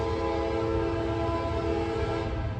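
A freight train passes steadily and loudly, with a sustained horn tone over the continuous rumble and rattle of the railcars; a defect detector sits on the line nearby.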